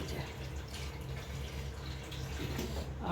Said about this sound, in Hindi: 4 बजे में पानी भर रही हूँ।